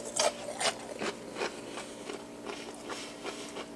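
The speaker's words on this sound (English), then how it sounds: "Can you hear how crunchy that is?" Close, crisp crunching from repeated chewing of a homemade fried onion ring, with sharp bites at the start followed by a steady run of softer crunches.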